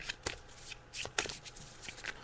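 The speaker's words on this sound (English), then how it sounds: "So I'm just shuffling the cards now." Tarot cards are shuffled during a psychic radio show, giving soft, quiet riffling and slapping bursts in an uneven rhythm, with no talk over them.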